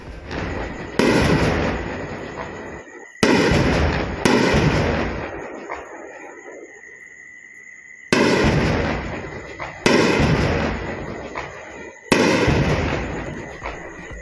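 Artillery fire and shelling in Kashmir booms out in six heavy, close blasts spaced a second or more apart, each a sudden roar that rumbles and fades, with a steady faint whine beneath.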